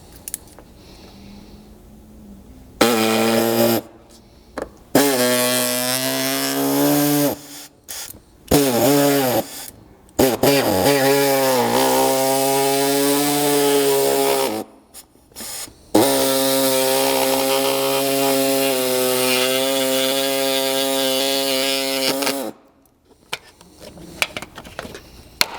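An oscillating power tool cuts through the plastic front bumper air dam of a 200 Series Land Cruiser: a loud, buzzing whine in several long passes with brief stops between, close and steady.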